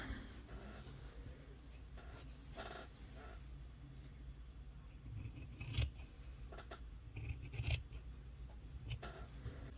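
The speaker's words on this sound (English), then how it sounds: "So I just take a really good pair of scissors." Several crisp scissor snips through fabric at an irregular pace, close up and fairly quiet, with soft handling rustles in between.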